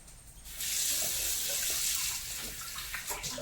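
Water pours steadily into a pot, a close rushing splash that starts abruptly and runs on without talk.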